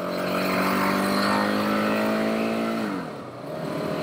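A 2018 KTM 690 Enduro R single-cylinder motorcycle engine holds a steady high drone, then dips briefly as it shifts into second gear and pulls again, loud and close.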